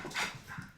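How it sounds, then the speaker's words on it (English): A dog barks in short bursts somewhere in the room, fairly close, with one stronger yelp near the start and softer yips after, at moderate loudness with no talk over it. "apologies for my dog being annoying, but he's barking."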